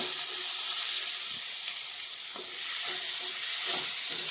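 Ginger garlic paste frying in a pan for chicken curry gives a steady, close sizzle with occasional stirring scrapes throughout, no voices.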